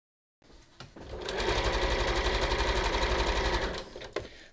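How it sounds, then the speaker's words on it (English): A home sewing machine runs a triple zigzag stitch around the edge of a bathing-suit bra cup, a loud, steady, rapid mechanical whir after a few starting clicks, then slowing and stopping. "So let me get my sewing machine."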